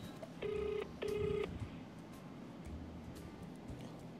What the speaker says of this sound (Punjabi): ਲਓ ਵੀ ਮਿੱਤਰੋ ਲੱਗ ਗਿਆ ਮਾਨ ਹਰਮਨ ਫੋਨ